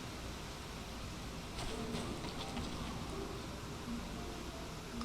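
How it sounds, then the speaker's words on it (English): Steady, even rain hisses as ambience in the video game FFXIV: A Realm Reborn, continuous and moderately loud throughout with faint tonal notes drifting above it. "It's still raining."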